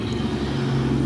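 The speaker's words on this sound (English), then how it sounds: "Sorry about the traffic. There's roadwork out front." Steady low road traffic rumble from roadwork outside, a continuous vehicle drone with no speech over it.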